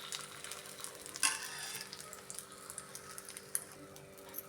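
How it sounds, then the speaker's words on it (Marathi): Food sizzles steadily in a frying pan as it is turned to cook the other side, with a brief louder scrape partway through and a continuous crackle beneath. "मी दुसऱ्या साईडने परतून घेते."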